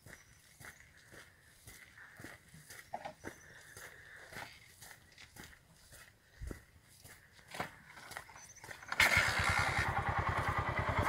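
A motorcycle on a muddy dirt road: quiet intermittent clatter and footsteps at first, then the engine fires and runs loudly with a rapid steady pulse near the end.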